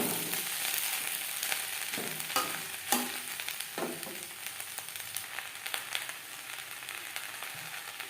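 Onion stalks fry in a pan on a gas flame, a steady soft sizzle broken by several sharp scraping stirs of a spatula against the pan, close and fairly quiet.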